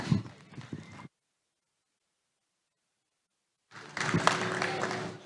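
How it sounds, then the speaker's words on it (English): Crowd applause for kids in the show ring at a gilt hog show, a short burst of clapping that cuts off into silence and then returns just as full. "Give these kids a nice round of applause."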